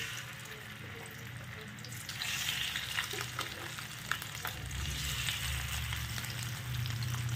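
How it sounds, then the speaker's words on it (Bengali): Fish coated in salt, turmeric and mustard oil frying over a low flame, a steady soft sizzle that grows louder partway through, with faint crackles and no talking. "শুধু জাস্ট এখন লো ফ্লেমে দেবে দিয়ে ভাজাটা বসিয়ে দেবো মাছটা ভেজে নিই"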